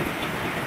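Sudden rain pouring down outdoors, a steady broadband hiss of drops on surfaces, fairly loud and continuous for a brief moment with no voices.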